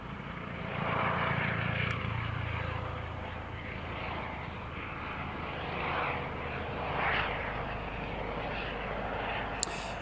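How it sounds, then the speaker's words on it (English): A National Police Air Service aircraft heads out from Newcastle International Airport with a steady engine drone, moderately loud and somewhat distant, swelling slightly at moments, with a couple of faint clicks and no talk. "Here comes NPAS, the National Police Air Service."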